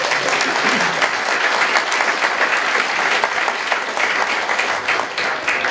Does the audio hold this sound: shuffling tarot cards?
no